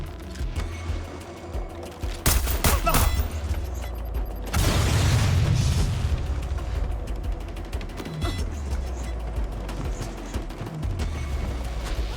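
A frag grenade going off in the video game Watch Dogs Legion: a heavy, close boom lasting about a second, followed by bursts of gunfire and rumbling combat noise that carry on steadily.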